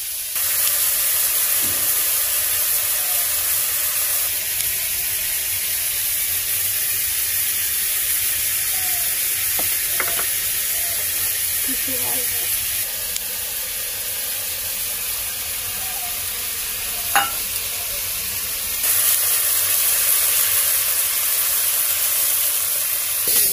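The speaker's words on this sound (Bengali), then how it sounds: "এই যে চিংড়ি মাছ ভাজা হয়ে গেছে" Prawns frying in oil in a kadai during a village cooking session, a steady broadband hiss and sizzle running throughout with a few faint pops and clinks, fairly loud and close, no talking.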